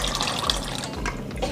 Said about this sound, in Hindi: अब हम इसको 3 से 4 पानी अच्छे से धो लेंगे।